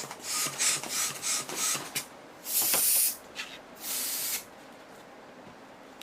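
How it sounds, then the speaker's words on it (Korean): A white twisting balloon is inflated with a hand pump, giving a run of rapid, close airy hissing pumps, then a few longer, steadier hisses with pauses between them. "화이트 풍선도 약 10cm 정도 남겨놓고 불어주시고요."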